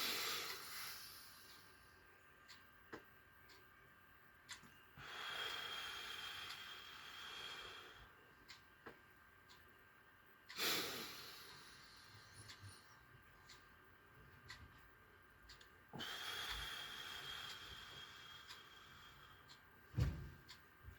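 Slow, deliberate breaths in a calming breathing exercise, each a soft airy hiss that swells and fades about every five seconds. They sound close but quiet, with faint clicks between.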